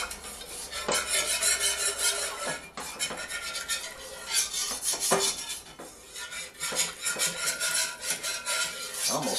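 A whisk stirring a tablespoon of flour into a small amount of chicken sauté sauce, continuous scraping and swishing strokes against a pan, loud and close, without talk.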